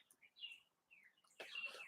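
Wild birds outdoors after being fed, giving a few short, faint chirps and tweets spread across a quiet moment, then a brief burst of brighter calls.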